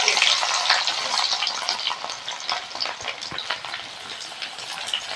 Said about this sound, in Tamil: எண்ணெய் காஞ்சிருச்சு, கடுகு உளுந்து சேர்த்துக்கலாம், வெந்தயம் சேர்த்துக்கலாம், சின்ன வெங்காயம் சேர்த்துக்கலாம்